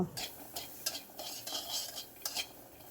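Garlic, green chilies and onions are dry-roasted without oil in a wok, with soft repeated scraping and clinking of a spatula and a faint sizzle, quiet and close.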